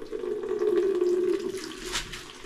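Water runs from a tap in a kitchen while cooking, a steady pour that rises to a fuller rush, then thins and trails off into a lighter trickle, heard close with no talk over it.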